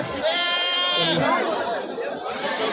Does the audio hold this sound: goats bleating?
yes